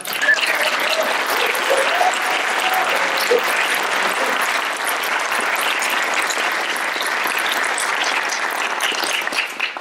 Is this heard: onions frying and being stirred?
no